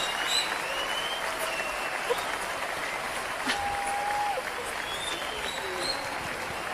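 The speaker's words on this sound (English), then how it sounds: "People on their feet, applauding, waiting, hoping." Sustained applause from a sellout audience on its feet at the Hollywood Bowl, a dense steady roar of clapping with faint cheers, even in level throughout, with no clear talk on top.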